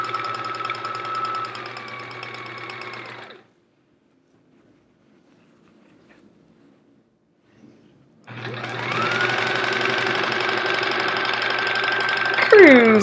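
Sewing machine stitching quilt scraps together into chevrons, a steady whirring run that stops for several seconds of near silence, then starts again louder and continues to the end.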